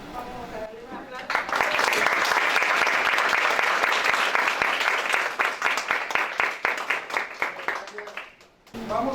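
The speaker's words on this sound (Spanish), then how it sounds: "Vamos a darle un aplauso." Audience at a tax and accounting seminar breaks into applause, dense clapping that swells and holds, then thins into scattered individual claps before fading out near the end.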